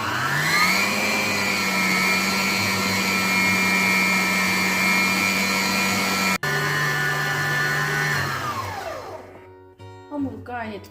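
A bread dough kneading machine works dough with flour, giving a loud, steady motor whine for several seconds. It winds down with a falling pitch and stops near the end.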